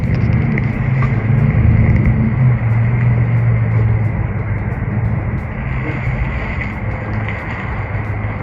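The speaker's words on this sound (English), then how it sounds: "I hear the truck now." A steady low engine rumble of an arriving delivery truck, fairly loud and continuous, with a faint hum in the upper range and no talking.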